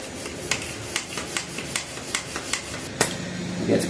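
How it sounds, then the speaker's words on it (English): A hand pump pushes air into the Presta-valve tire of a GT mountain bike with a steady series of short, evenly spaced strokes, close and moderately quiet. "I'm going to go ahead and finish pumping this up."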